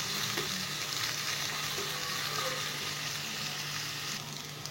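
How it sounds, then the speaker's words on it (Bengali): Sliced onion and curry leaves fry in hot oil for an egg dish, a steady dense sizzle and crackle close up with no voices. "পেঁয়াজটাকে হালকা ফ্রাই করব।"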